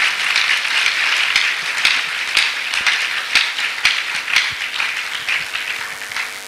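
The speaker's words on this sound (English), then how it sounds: "that is where you should give him a round of applause" Sustained audience applause at an annual Nigerian policy forum, a dense, steady wash of many hands clapping with sharper individual claps standing out, continuous and fairly loud throughout.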